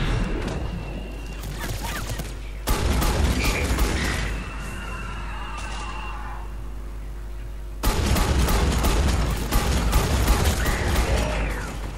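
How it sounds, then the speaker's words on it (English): Gunfire and heavy booming combat from the video game Mass Effect 3, with dense bursts of shots and impacts that swell louder midway and again near the end, continuous and close. "Who's shooting at me?"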